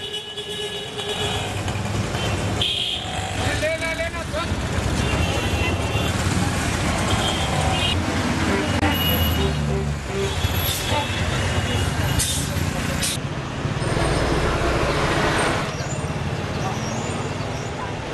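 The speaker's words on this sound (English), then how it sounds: "the traffic is heavy today, and Giril begins to worry." Heavy road traffic in India, with buses, trucks and cars crowding the street, producing a steady loud rumble with engine roar, horns and an occasional air-brake hiss throughout, voices mixed in beneath.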